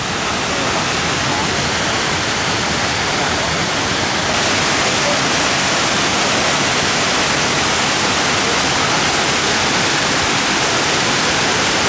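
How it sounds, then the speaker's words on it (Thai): A waterfall roars steadily and loudly throughout, a dense, continuous rush of falling water with no breaks, filling the whole scene. "น้ำตกฮะ"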